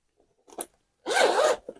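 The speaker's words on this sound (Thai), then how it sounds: "มาเช็คซิปอันแรกกระเป๋าหน้าครับ" A zipper runs along the front pocket of a padded Greco guitar gig bag, heard as a short tug and then one longer, loud, close zip, with a brief scrape at the end.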